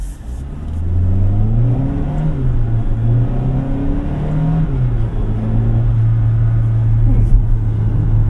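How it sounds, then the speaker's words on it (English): Engine of a 2024 Kia Seltos SX with a turbocharged motor and DCT gearbox, heard from inside the cabin as it downshifts on a drive, a steady low drone shifting pitch with a slight rise near the end. "So now it's downshifting for me."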